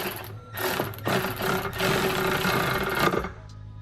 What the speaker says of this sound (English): I wonder if my electric ratchet has enough torque.